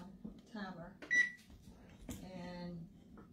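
Electronic beeps from a kitchen oven timer as its buttons are pressed, a few short tonal bleeps scattered between people talking nearby.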